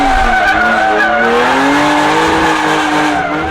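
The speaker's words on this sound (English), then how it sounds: "hopefully this thing can spin second." A drift car with an angle kit slides at a car show, its tires squealing in a loud, sustained wail with wavering pitch over the engine's steady drone for the whole stretch.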